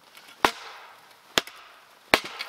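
Small pieces of wood split for a campfire with a hatchet or axe, three sharp, loud chopping strikes spaced about a second apart, each followed by a brief crackle of wood and light rustling, with no talk.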